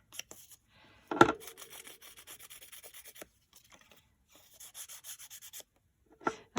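A finger rubs Prima rich copper metallic wax onto paper in soft, dry, scratchy strokes, quiet and close, in short bursts separated by pauses, with one sharper tap.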